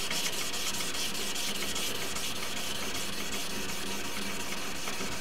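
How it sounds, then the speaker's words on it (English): The flat side of a steel cabinet scraper is honed on a stone, giving a steady, continuous rasping rub with back-and-forth strokes, close up and without talk. "So we're just going to hone off"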